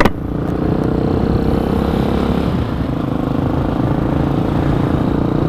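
An Amazon Hawk 250 enduro motorcycle engine warms up after carburetor tuning for elevation, producing a steady, close, continuous idle rumble with a slight clattering texture that holds even throughout, with no talking.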